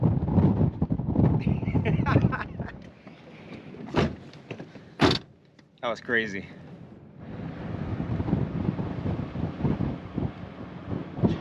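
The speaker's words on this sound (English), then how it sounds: "The wind is literally strong enough to push you!" Strong gusting wind in Afghanistan roars across the microphone in loud broadband bursts, easing midway and then building again, with people talking over it.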